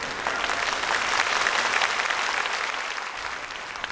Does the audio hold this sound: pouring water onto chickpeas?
no